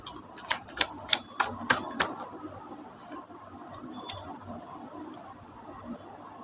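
Tarot cards are shuffled, with a quick series of about six crisp riffling clicks, then fainter rustling as a card is drawn.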